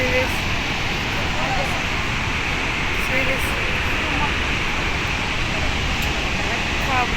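Water pours through the seven opened gates of the Srisailam dam in a loud, unbroken roar, with voices faintly present beneath it.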